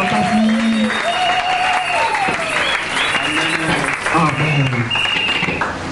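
Loud, sustained applause from an audience at a spiritual seminar, dense continuous clapping with a voice speaking over it throughout.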